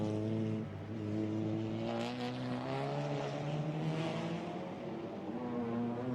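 TCR touring race cars circle the Spa circuit in qualifying, their engines a steady, fairly faint drone with shifting pitch as they pass at a distance.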